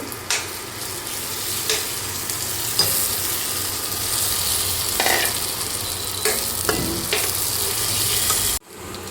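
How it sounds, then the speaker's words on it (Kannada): Masala being stirred into fried tomato and onion in a hot pan for paneer bhurji, a continuous close sizzle with scraping spoon strokes and occasional clacks against the pan, ending abruptly. "ಹಾಕ್ಕೊಂಡು ಚೆನ್ನಾಗಿ ಮಿಕ್ಸ್ ಮಾಡಬೇಕು"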